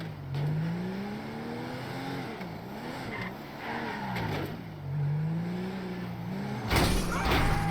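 A Mustang in GTA V drives with a steady engine drone that rises and falls as the revs shift, then ends in a brief thump, with no one talking.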